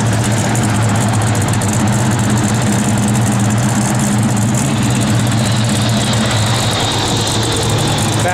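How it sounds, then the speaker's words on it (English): 1968 Chevrolet Chevelle SS big block V8 idling steadily, a loud, deep, continuous rumble heard up close with no break in the sound. "Good sound in big block."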